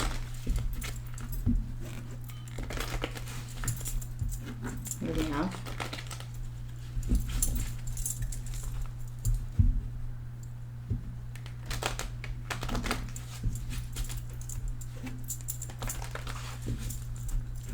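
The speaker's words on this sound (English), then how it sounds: "Just giving it a couple more shuffles." A deck of tarot cards is shuffled in quick, papery riffles and taps, with a low steady hum underneath and a person talking over it now and then.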